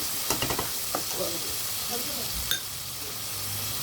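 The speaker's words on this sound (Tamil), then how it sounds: "தக்காளி ஆட் பண்ணிவிட்டு இதையும் நல்லா மிக்ஸ் பண்ணிக்கலாம்." Tomato and onion stirred in a sizzling pan, a soft steady frying hiss with a few quick scraping strokes and a light clink, close up and brief.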